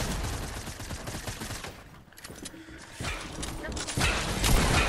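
Rapid gunfire bursts from Fortnite trios arena play, loud and close, with a brief lull midway before the shooting picks up again under excited talking.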